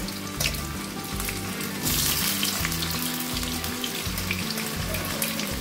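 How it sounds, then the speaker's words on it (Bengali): Potatoes fry in hot mustard oil for a pat shak jhol, giving a steady, close hiss and crackle that runs the whole time over a low melodic backing. "তেল গরম হয়ে গেছে, এবার আলু ভেজে নেব।"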